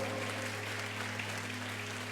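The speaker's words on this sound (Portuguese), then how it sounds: "Você pode aplaudir o Senhor?" Applause from a church congregation during a celebration service, steady and moderately loud, with a constant low organ or keyboard hum sustained beneath it.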